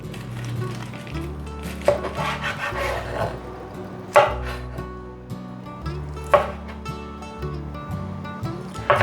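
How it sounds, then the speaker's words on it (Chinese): A knife chops soaked white wood ear fungus on a cutting board in a home kitchen, sharp knocks coming in quick runs with a few louder strikes, while a soft low hum sits underneath. "把白木耳切碎，换一个方向，再切更碎一点。"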